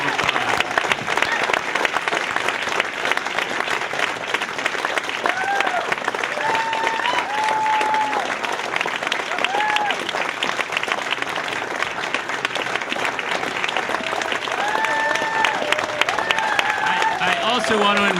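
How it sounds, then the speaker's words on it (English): Sustained audience applause for a group of storytellers at a storytelling show, dense steady clapping across the full stretch with a few voices calling out over it. "just one more huge round of applause"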